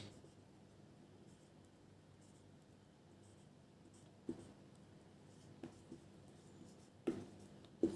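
Marker or chalk writing on a board during a Class 11 mathematics lesson on set complements, with soft scratchy strokes over a quiet room and a few sharper taps as the writing tool meets the board.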